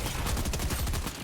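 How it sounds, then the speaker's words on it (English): The Optimus Prime cannon fires at a boss in the Fortnite video game, giving a rapid burst of repeated booming shots, dense and loud, with no talking. "Gonna use the Optimus Prime cannon on the boss"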